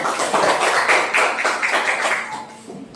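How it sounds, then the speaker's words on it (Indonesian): A classroom of students clapping for a group after its answer, close and fairly loud rapid claps from many hands in an uneven rhythm, trailing off near the end. "Tepuk tangan untuk kelompoknya."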